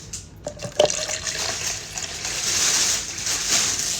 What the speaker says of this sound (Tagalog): Lagyan natin ng 200 ml water.